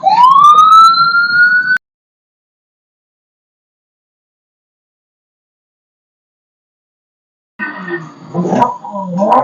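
A toy police bike's siren wails in a rising electronic tone for under two seconds, loud and close, then cuts to silence before indistinct shop clatter and voices return.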